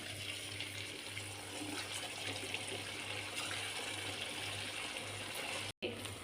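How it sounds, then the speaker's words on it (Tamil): Potato balls deep-fry in hot oil in a kadai, giving a steady close sizzling hiss over a low hum, with a brief dropout near the end. "அடுப்பில் கடாயில் எண்ணெய் வச்சுருக்கேன் எண்ணெய் சூடாகிடுச்சு இப்போ ஒரு உருண்டைகளாக அதில் சேர்த்துடலாம்"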